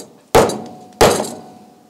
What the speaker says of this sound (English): Wait, isn't this the proper hammer?